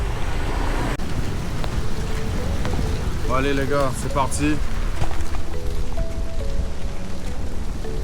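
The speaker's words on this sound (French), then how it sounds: "Aujourd'hui, journée sous la pluie a priori." Rain falls in a steady, dense hiss outdoors on a road in Vietnam during a downpour, a continuous wash of noise beneath someone speaking briefly in French and faint passing traffic.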